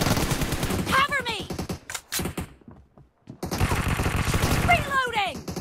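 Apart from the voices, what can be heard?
gunfire in video game PUBG Mobile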